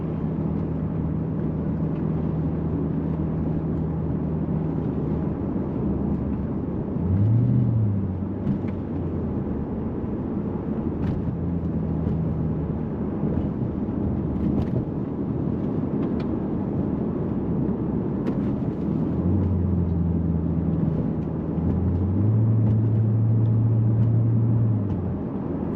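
Lexus GS-F sedan on RR-Racing coilovers rolling down a road over manhole covers, a steady cabin road rumble with a few soft thumps and low swells as the wheels cross the covers.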